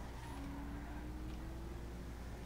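A BMW in a GTA roleplay video game drives along with a low, steady engine drone and a faint rising tone, quiet and continuous with no voices.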